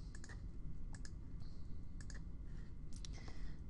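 Crisp computer mouse clicks, in small separate clusters over a faint background hiss, come from working in Microsoft Word 2010.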